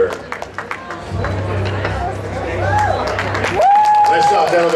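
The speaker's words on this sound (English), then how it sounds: "Give them a round of applause" A crowd at a Mas-Wrestling World Absolute Championship in Columbus applauds the wrestlers with a spread of claps and cheering, while an announcer speaks over the noise.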